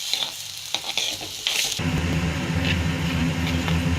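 Barnyard millet rice is dry roasted in an empty kadai. After a few scattered scrapes and taps, a steady grainy rustle of stirring and light sizzle runs continuously and close.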